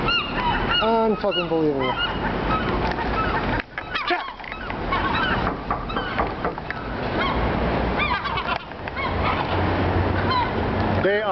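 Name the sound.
seagulls calling while attacking on a parking garage rooftop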